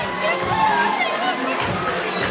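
A boxing crowd at a Beatdown Promotions event cheering and shouting after the fight, a dense, loud roar of many voices that holds steady throughout.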